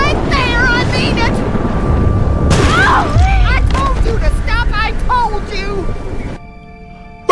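A single loud gunshot bursts out in The Walking Dead Telltale video game during a tense standoff, set against constant wind-like rumble, with voices talking before and after.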